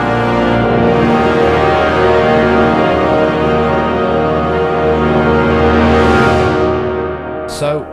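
A brass section carries a dense, sustained chord in a song mix with steady harmonic layers at a loud, even level. It swells toward the end, then cuts off sharply.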